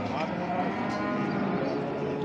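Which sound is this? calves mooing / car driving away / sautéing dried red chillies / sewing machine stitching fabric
calves mooing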